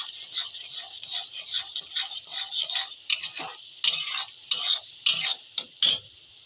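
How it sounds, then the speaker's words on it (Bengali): A spatula stirs a pan of pointed gourd seasoned with salt over a steady frying sizzle, with repeated scraping strokes that grow sharper and more distinct toward the end. "এবার একবার নেড়ে নেবো।"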